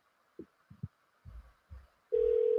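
A telephone line after a call is hung up: a few low, scattered thumps, then a loud, steady electronic tone that sets in abruptly and holds to the end.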